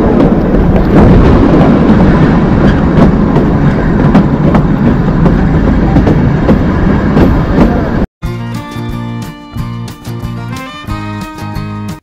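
The Kalka to Shimla toy train, the Shivalik Deluxe Express, rumbles loudly along the rails with rattling clatter for about eight seconds before it cuts abruptly to music.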